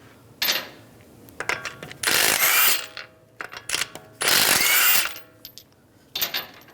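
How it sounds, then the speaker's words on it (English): Ratchet with a 19mm socket loosening lug nuts on a 2013-2016 Dodge Dart front wheel, in bursts of rapid close clicking separated by short sharp taps and pauses. "use a 19mm socket, take the lug nuts off"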